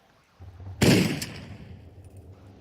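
A single sharp gunshot from a pistol in Tomb Raider 4, loud and close, followed by a short echoing tail and faint low game ambience; an earlier quieter thump comes just before it.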